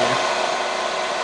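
A hair dryer blows steadily on melting crayon wax, a constant close whooshing roar with no breaks or voices.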